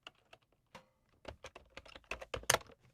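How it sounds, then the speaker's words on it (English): Keys clatter on a computer keyboard, sparse taps at first that build into quicker, louder bursts of typing, close and clear in a quiet room. "type in Cheryl's name"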